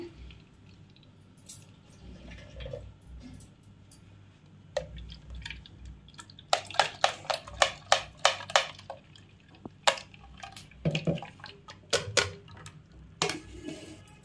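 Blended mint juice strained through a strainer into a vessel, quiet trickling broken by a run of sharp dripping and tapping clicks, close by with no talking.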